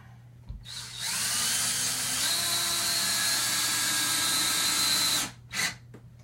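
A power drill driving screws into a Murphy bed runs in one sustained whine for about four seconds, its pitch rising slightly partway through, followed by a short second burst, close and loud with no talk.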